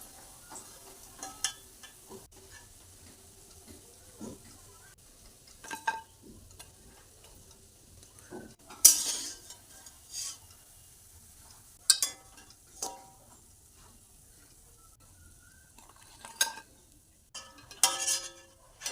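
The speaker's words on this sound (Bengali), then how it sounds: "হালকা ব্রাউন করেই ভেজে তুলে নিচ্ছি" Masoor dal fritters (bora) deep-fry in hot oil, giving off scattered crackles and sharp spits at uneven intervals, fairly faint and with no talking.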